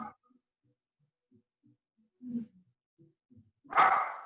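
During a home yoga session, a dog makes a few quiet low grumbles and whimpers, then lets out one louder bark at the end, in an otherwise quiet room.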